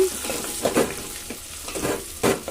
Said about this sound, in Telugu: బిర్యానీ అయితే ఉల్లిపాయలు వేస్తున్నాను సరి కలుపుకుంటున్నాను